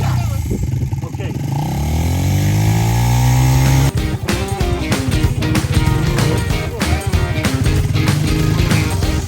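A motorbike on a rural ride: the close engine revs up with rising pitch, then settles into a loud, rough, pulsing drone, with voices heard over it at times.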